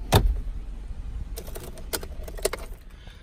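Keys jangle briefly and close by as a 2016 Subaru Forester 2.5i Premium SUV is switched off, followed by scattered small clicks and rattles in a quiet car interior.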